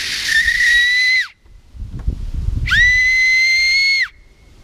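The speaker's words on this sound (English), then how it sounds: "just blow, and it'll make a really high-pitched whistling sound" A high, piercing whistle is blown through an acorn cap held between the fingers. It comes as two long, loud, steady blasts, separated by a short gap filled with breathy rustling.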